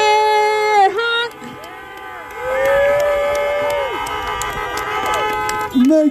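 Car horns honk at a rent-cancellation street protest, several long, overlapping tones sounding loudly together and then fading, amid crowd noise.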